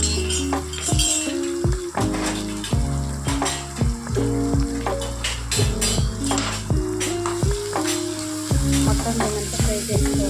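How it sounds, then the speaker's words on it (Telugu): Potatoes with turmeric sizzle in a pan for an aloo kurma, a loud continuous fry broken by repeated clinks and scrapes of a metal spoon stirring against the pan, with no talking. "మొత్తం దీనంతా ఫ్రై చేసుకోవాలి. మంచిగా కలిపేసుకోవాలి."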